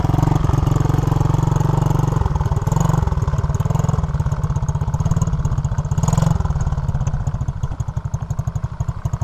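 An SSR Motorsport 110cc dirt bike engine runs close by, a loud, steady, rapid putter with a couple of brief throttle swells before it settles back to a lighter, pulsing idle.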